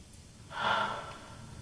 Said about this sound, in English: Just quiet your thoughts with some deep, full breaths